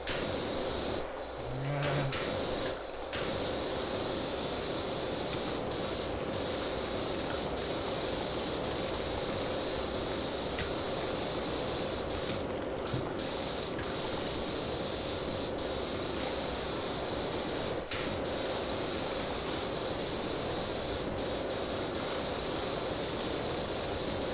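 A pressure washer in PowerWash Simulator sprays stains off a surface, a steady loud hiss running unbroken for the whole stretch, with only a few faint clicks and thuds over it and no talk.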